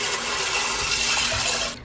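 Steady loud rush of water poured into an Instant Pot for pasta, a continuous close splashing stream that cuts off near the end, no talking.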